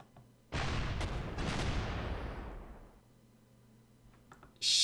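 Gunfire aimed at Spitfires in the wartime strategy game Panzer Corps: a loud rushing burst of anti-aircraft fire with crackling shots that fades away, then a sharp new blast at the end.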